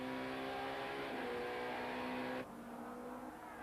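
Touring cars race through a sweeping bend at the Kyalami circuit in the 1994 South African championship, engines roaring at high revs as they pass, the sound dropping abruptly partway through; no speech.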